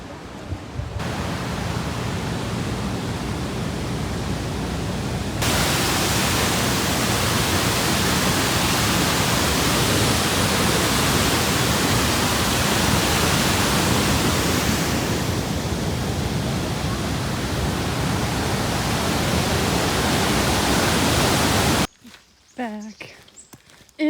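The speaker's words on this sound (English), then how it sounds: "River crossing." Loud, continuous rush of river water at an Appalachian Trail river crossing, broadband and steady for about twenty seconds before cutting off abruptly, with brief faint sounds afterward.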